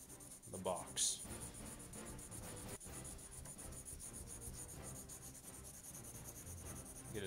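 A pencil shades in a box on paper, a continuous close scratching and rubbing that continues throughout, with a few louder strokes near the start.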